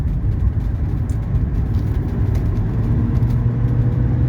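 A 1984 Mercedes 300SD with its 617 diesel engine runs on a test drive, a loud, steady low rumble of engine and road noise from inside the car, constant throughout.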